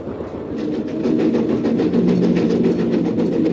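A moving train in the Nancy Drew game Last Train to Blue Moon Canyon rumbles steadily with a low, continuous roll and faint rhythmic clatter, loud and close, with no voices.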